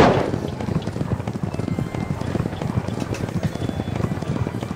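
Rapid, continuous drumming of hooves from several galloping horses in a 2004 Spin & Win horse-race game, close and energetic, with a slightly synthetic, game-like quality.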